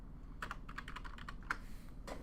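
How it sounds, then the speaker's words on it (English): Rapid irregular clatter of keys being typed on a computer keyboard, close and fairly quiet, a steady run of taps with a few brief pauses and no voices. "I hate your keyboard"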